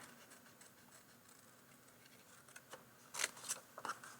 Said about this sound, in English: So with my snips, I'm just going to ever so carefully cut out Wonderful Counselor.